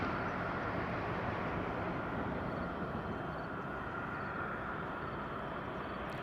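An airliner's jet engines roar during takeoff at Madeira Island Airport, a steady broad rumble that stays constant and moderately distant, with no voices.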